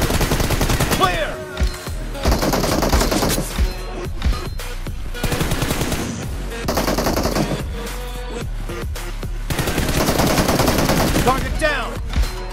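Rapid automatic gunfire bursts from the PUBG Mobile video game during a team deathmatch, loud repeated volleys of shots with brief gaps between clusters, plus short in-game voice callouts.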